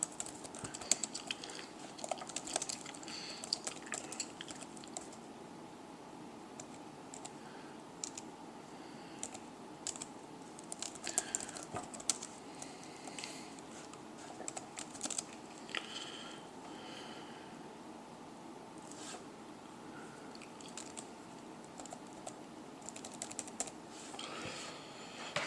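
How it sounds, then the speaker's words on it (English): Steady computer keyboard typing in a quiet room, a continuous run of fairly soft, close key clicks with irregular rhythm and no talking. "I'm going to type up 2 more examples"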